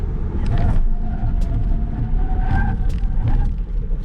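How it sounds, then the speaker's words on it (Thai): A BYD Dolphin accelerating to 100 km/h and then braking hard gives a steady road and engine rumble from inside the car, with faint higher squeals and whooshes scattered over the four seconds, heard without talk. "กดคันเร่งไปที่ 100กิโลเมตรต่อชั่วโมงนะครับ แล้วลองดูว่า ผมกระทืบเบรกไปแบบ เต็มสุดเลยเนี่ย"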